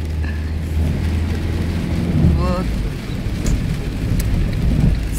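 Heavy winter rain in Izmir pours without a break, a dense, loud hiss of water on surfaces with low rumbles of thunder beneath it, and a voice speaks briefly over it.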